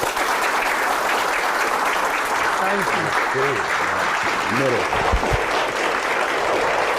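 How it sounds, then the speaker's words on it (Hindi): Steady, loud applause from a large audience welcoming a singer at a live event fills the whole stretch, with a few faint voices calling out underneath. "जोरदार तालियों से स्वागत करिए"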